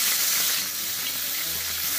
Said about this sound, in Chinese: 醪汁下锅，猪肉炒醪汁